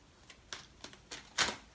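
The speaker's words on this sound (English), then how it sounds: "I'm going to do a quick shuffle here." Tarot cards are shuffled in a handful of short, papery bursts, spaced unevenly and close by. The last burst is the loudest, and there is no talk.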